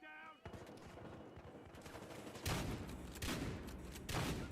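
Gunfire in the game Battlefield Hardline during a bank-job heist, a dense sustained burst of rapid shots and booms with heavier bursts near the end, loud and close.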